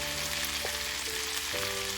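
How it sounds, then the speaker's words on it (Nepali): Chicken and radish curry sizzles steadily in a pan while being stirred, a continuous bright frying hiss with a low, even hum beneath and occasional soft shifts as the food is moved. "ल अब यसलाई केही बेर चलाउँदै यसलाई फ्राई गरेपछि"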